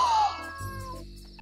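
A person imitates a cat's meow, a single drawn-out falling mew followed by a softer trailing tone, close and fairly loud, with no other talk.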